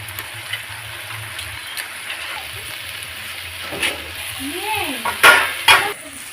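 Lentil dumplings (bori) dropped into a bottle gourd curry in a pan, with a low simmering sizzle, a few utensil scrapes and louder clinks near the end.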